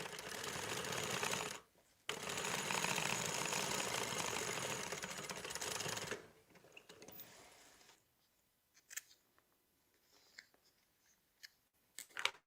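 Sewing machine basting a zipper pocket, a dense steady mechanical stitching run interrupted once by a short stop, then ending in scattered quiet clicks and handling sounds.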